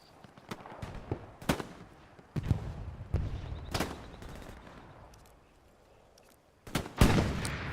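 Scattered gunshots in a WWII shooter, mostly single loud cracks with gaps between them and a heavier burst near the end, against distant battle rumble. No sustained machine-gun rattle stands out.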